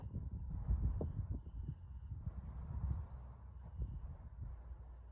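Horses step backward in a show-ring class, their hooves clip-clopping in an irregular, continuous patter at moderate distance.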